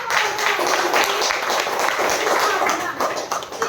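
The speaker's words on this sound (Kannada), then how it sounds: "ನಿಮ್ಮ ಒಂದು ದೊಡ್ಡ ಚಪ್ಪಾಳೆ" An audience at a direct-selling company presentation breaks into loud, sustained applause, a dense patter of many hands clapping together that tapers slightly at the end.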